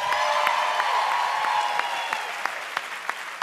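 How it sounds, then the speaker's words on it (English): Theater audience applauding at a live improv comedy show, a steady wash of many hands clapping close and loud, holding for a few seconds before thinning slightly with scattered louder claps near the end. "you enjoy that applause, enjoy that laughter"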